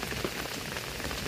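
Heavy rain pours steadily during a typhoon that damaged a house, a dense, close, continuous hiss of drops striking surfaces with no pauses.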